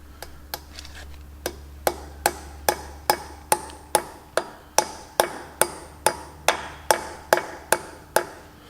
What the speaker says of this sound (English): Make sure you hit on the outside of the bearing